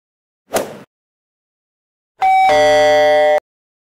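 A notification bell sound effect: a short soft swoosh, a pause, then a bright ringing chime that holds for about a second before cutting off cleanly, with nothing else heard.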